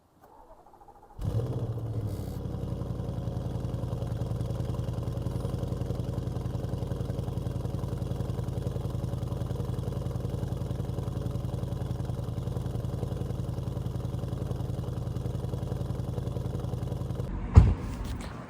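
Audi S6 engine with a 034 Motorsports X-pipe exhaust idling and running steadily for over fifteen seconds with a deep, loud, even drone, ending in one sharp pop near the close.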